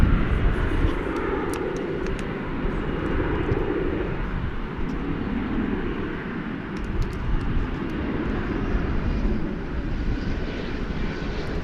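An airliner takes off from runway 18 Left at DFW Airport, its engines a steady, heavy roar that stays loud and broad for the whole stretch, swelling slightly midway with no pauses.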